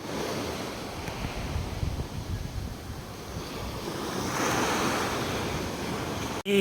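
Ocean waves wash steadily onto a beach at low tide off Patugan Island, a continuous near surf roar with gusts of wind buffeting the microphone and a sharp knock at the very end.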